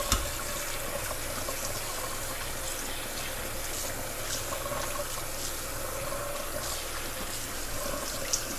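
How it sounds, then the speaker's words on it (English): Tap water pouring steadily over frozen elderberries in a sink, a continuous close rushing splash with no break for the whole stretch and no talking. "I did rinse these before I froze them, but I'm just gonna give them a quick rinse again."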